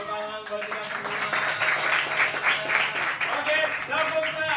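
A group at a morning session in an Indonesian teacher-training class claps together in a steady burst of hand applause, moderately loud and close, with talking mixed in.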